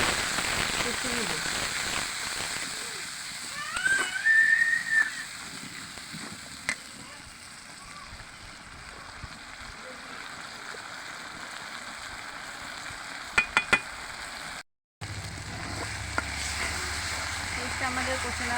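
Onions with turmeric and spices sautéing in a pan, a steady soft sizzle like light rain running throughout, with a few brief clinks partway through.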